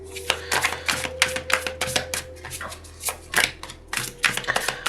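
A deck of tarot cards is shuffled by hand, giving rapid, crisp riffling and slapping bursts in an uneven rhythm, close and fairly loud, with no voices.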